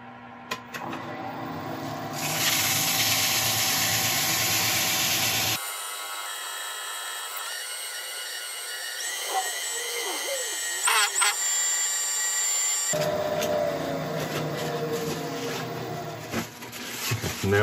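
A wood lathe spins an olive ash bowl during sanding, its steady mechanical whir and grinding hiss running loud and close, rising as the speed climbs toward about 1,000, with a quieter gap midway before the full whine returns.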